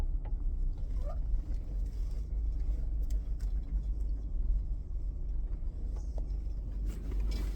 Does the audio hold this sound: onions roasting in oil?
no